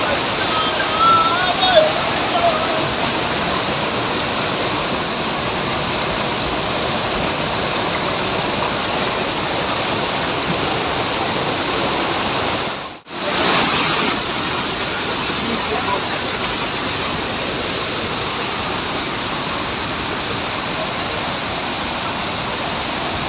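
A waterfall with people bathing beneath it, heard as a dense, steady roar of falling water, close and loud throughout with one brief dip midway.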